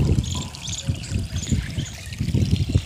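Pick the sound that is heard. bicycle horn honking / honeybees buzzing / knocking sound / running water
running water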